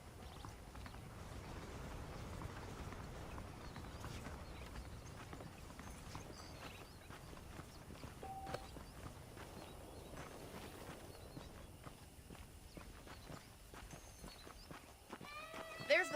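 Horse hooves clip-clop at a steady walking rhythm in Red Dead Redemption, faint and continuous beneath a low ambient bed throughout.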